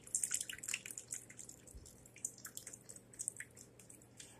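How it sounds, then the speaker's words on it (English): Tomato juice pours into a pot of beef stew, heard as faint, quiet drips and trickles splashing irregularly, with no voices. "I'm going to put some tomato juice."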